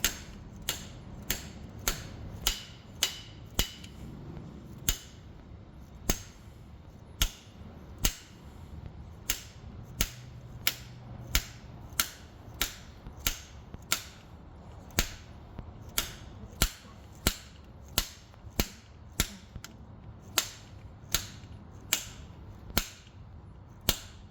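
A hammer drives a pin into a Honda/Acura suspension part, giving about forty sharp, evenly spaced metallic strikes close by, steady and rhythmic with faint background hum.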